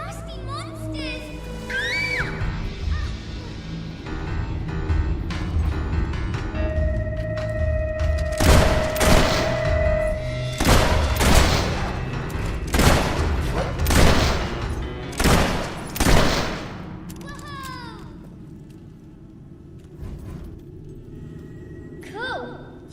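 Gunfire rings out in the Fable 3 game, a burst of loud sharp shots clustered mid-clip amid booms and game music, with a child-like voice and other character chatter around it.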